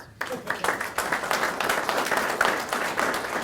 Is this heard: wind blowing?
no